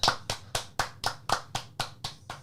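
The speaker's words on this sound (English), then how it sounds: "Round of applause for A24" Nine or so crisp, evenly spaced hand claps from a single nearby person, fairly quiet, in a steady rhythm with nothing else behind them.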